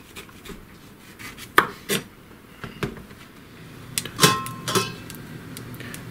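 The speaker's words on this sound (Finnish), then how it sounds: "Ja sitten pilkotaan niin paprika ja sipulit" A knife chops bell pepper and onions on a board in a home kitchen, giving a handful of irregular, crisp close cuts that come in small clusters with pauses between.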